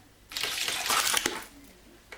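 Water pours into a glass in a short, splashy burst that swells, holds for about a second, then trails off with a few drips.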